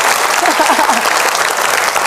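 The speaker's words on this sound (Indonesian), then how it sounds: "Tepuk tangan lu dong buat Mas Ibnu Jamil" Audience applause for Mas Ibnu Jamil at a speaking-skills session: loud, continuous clapping from a crowd filling the room, steady without pause, with a voice briefly audible beneath it.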